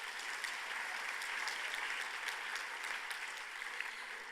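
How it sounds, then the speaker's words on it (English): An audience at a closing ceremony of an international health partners' forum claps steadily throughout, a dense even wash of applause with scattered sharper claps, heard from some distance and alone. "If we could give them a round of applause one more time"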